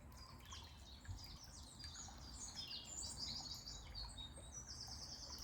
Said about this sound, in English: the sound of the birds,